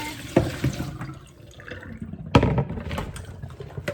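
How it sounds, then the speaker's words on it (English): Water from a pot of green beans is poured off and drained in a kitchen, with splashing bursts and gurgling close by, two stronger pours separated by a quieter trickle. "we need to go ahead and drain this water"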